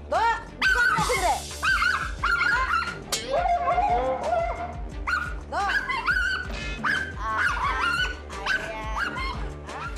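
A dog barks and yelps in fear, screaming-like, while a larger dog harasses it: repeated high, strained barks and whimpering cries in rapid bursts, mixed with people talking and exclaiming nearby.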